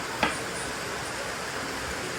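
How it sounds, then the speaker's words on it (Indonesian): Steady rain falls outside, heard from indoors as an even, continuous hiss with one brief click near the start and no voices. "Hujan, dengar nggak kalian hujan?"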